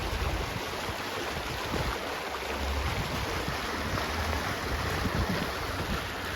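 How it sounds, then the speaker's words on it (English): Paradise Creek in Pullman, Washington, running fast and swollen after heavy rain where it passes under a hotel: a steady, loud, unbroken rush of water with no voices. "This creek goes right under this hotel here."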